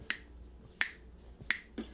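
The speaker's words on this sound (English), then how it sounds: "And if you can snap your fingers, why don't we do that?" Fingers snap sharply four times at a steady, unhurried pace, close and crisp, alone in a quiet room.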